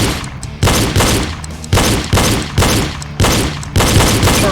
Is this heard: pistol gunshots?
yes